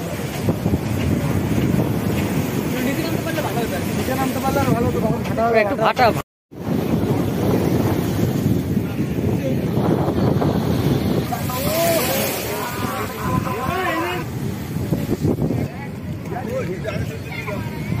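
Wind buffets the microphone over rolling, surging surf flooding the seafront promenade at Digha beach, with voices talking throughout and a brief dropout midway.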